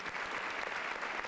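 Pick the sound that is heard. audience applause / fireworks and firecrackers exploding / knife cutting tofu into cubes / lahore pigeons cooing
audience applause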